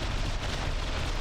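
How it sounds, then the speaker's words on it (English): A big explosion in a naval battle video game, a loud, dense rumbling roar that stays steady through the short stretch with no pause or fade. "there we had a pretty big explosion"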